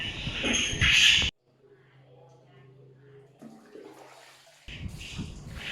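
Water drains out of a clogged toilet bowl, a loud rush giving way to a quiet, low gurgling trickle, then another burst of splashing water near the end.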